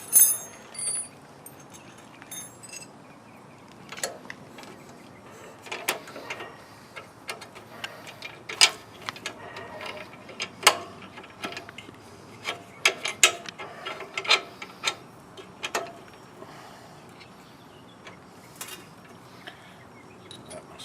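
Tools click and ratchet against the metal frame of a Swardman Edwin 2.1 reel mower as it is adjusted, a scattered run of close, sharp ticks and light scrapes with brief pauses and no talking.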